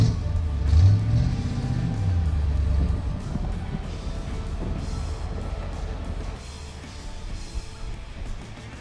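A 1976 Corvette Stingray with a manual gearbox pulls away and drives on, its engine rumbling loudly at first and then settling into a lower, steadier drone.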